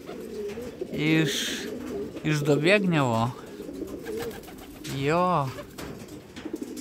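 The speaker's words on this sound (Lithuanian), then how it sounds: "iš Dobėgnevo čia grįžo mano paukštis." Racing pigeons in a training loft in Lithuania, several clear, close coos rising and falling in repeated bursts, with someone speaking between and over them.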